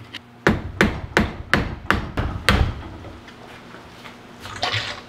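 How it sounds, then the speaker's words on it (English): Seven sharp metallic hammer strikes on a chisel against a power steering rack's tie rod tabs, steady rhythm, close and loud, followed by a quieter scrape and a soft knock. "Get a flathead or a chisel and hammer them back"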